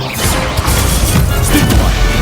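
Spell impacts from the Stupefy charm in Hogwarts Legacy during a duel, heavy crashing thwacks with booming low end, dense and continuous over about two seconds with no speech.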